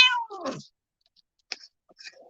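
Indoor cats yowl and meow while fighting: a loud drawn-out cry at the start, then after a pause a few shorter sharp meows and scuffling sounds nearby.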